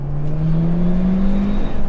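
Audi A1 Quattro, 256 horsepower, accelerating at full throttle from the cabin: a loud, steady engine drone rising smoothly in pitch with a constant road rumble underneath.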